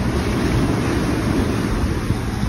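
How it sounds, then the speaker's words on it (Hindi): Sea waves at Kite Beach in Dubai roll in on a rough day, a loud, continuous wash of surf mixed with heavy wind buffeting close to the microphone. "ये देखिए आज लहरें भी इतनी ज़्यादा हैं।"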